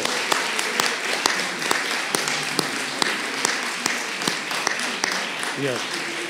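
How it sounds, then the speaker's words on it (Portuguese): An audience at a church gathering of Africans and Europeans gives a round of applause for the brothers from Brazil, sparse distinct claps ringing out over a dense wash of hand-clapping, with a voice rising briefly near the end. "batermos uma grande salva de palmas aos irmãos do Brasil"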